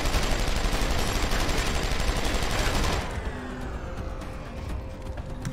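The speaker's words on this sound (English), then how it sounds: "Gunshots!" Rapid gunfire from the video game Deus Ex: Human Revolution, a loud, dense burst of overlapping shots and clatter that drops to a quieter, sparser rattle partway through, with no talking.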